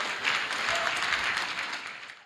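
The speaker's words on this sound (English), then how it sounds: "Clap for Jesus." Worshippers at a prophetic church service break into a burst of hand clapping, a dense, steady wash of applause that fills the space and tapers off at the end.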